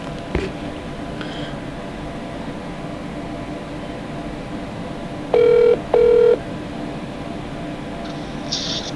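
A telephone rings with an incoming call, two short electronic ring bursts with a clear tone heard close by over steady background noise, with no one speaking.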